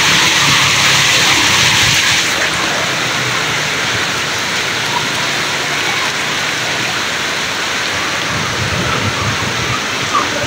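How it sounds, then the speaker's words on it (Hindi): Heavy stormy rain pours down in a dense, loud, unbroken roar with no pauses, and no voices are heard. "बहुत ही ज़्यादा तूफ़ानी बारिश है।"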